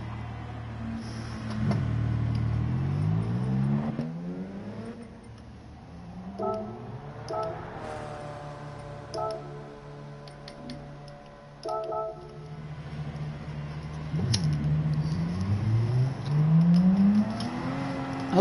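A Porsche engine in Gran Turismo 7 revs up and down through gear changes, swelling and dropping in pitch over about eighteen seconds, fairly loud and close with no talk.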